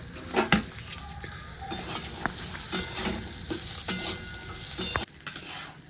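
Green pea pods, green chillies and garlic roast in a little oil, making a close steady sizzle with frequent spatula scrapes and clinks against the pan before the sound briefly drops away near the end.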